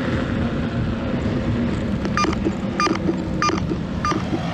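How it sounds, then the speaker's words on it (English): An Inmotion V11 electric unicycle sounds its low battery mode warning, a series of four short, evenly spaced electronic beeps over steady background noise. "that's the sound of low battery mode"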